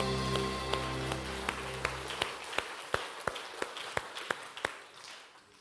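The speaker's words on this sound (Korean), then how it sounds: "박수로 하나님께 영광 올립니다." A church congregation claps in praise at a Sunday worship service as music fades out, leaving a run of sharp, evenly spaced claps that gradually thin out and grow quieter.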